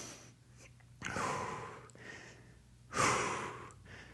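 Deep, slow breathing during a yoga stretch in a bootcamp dumbbell workout: two long, airy breaths heard up close, each swelling and fading, with quiet pauses between them.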